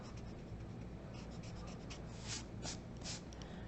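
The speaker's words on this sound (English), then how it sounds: "I can erase it." Pencil lines rubbed out on paper with an eraser while drawing one-point perspective letters, a steady close scratchy scrubbing with a few stronger strokes toward the end.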